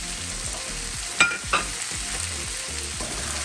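Chow mein with chicken, vegetables and small broccoli pieces sizzles steadily in a pan while it is stir-fried. A couple of sharp clanks from the utensil stand out over the continuous frying hiss.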